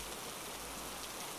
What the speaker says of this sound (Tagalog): Napakalakas ng ulan at sa tingin niya ay may bagyo pa yata.